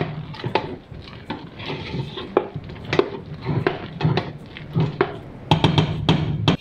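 Cheddar cheese stirred into a pot of mashed potato soup, with a run of clinks, scrapes and knocks of a utensil against the pot, moderately close and fairly steady, with no talking.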